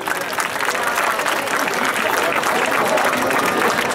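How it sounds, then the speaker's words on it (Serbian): A large crowd claps on a town square in Kruševac during a May Day eve celebration, a loud, dense and sustained wash of applause without a break. "za vaš aplauz i za svaku pohvalu"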